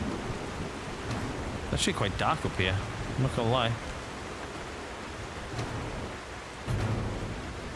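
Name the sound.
thunderstorm with rain in video game The Last Caretaker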